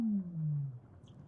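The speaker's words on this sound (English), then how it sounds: "They're actually the calls of Weddell seals." A Weddell seal calls under Antarctic ice, a single descending, drawn-out eerie whistle-like moan, clear and alone in the quiet water.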